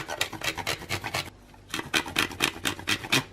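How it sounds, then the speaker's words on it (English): A microplane grater shaves chocolate in quick, repeated scraping strokes, close and distinct, with a short pause midway before the rhythmic grating resumes. "Now I'm going to use a microplane grater and grate a row or 2 of chocolate over."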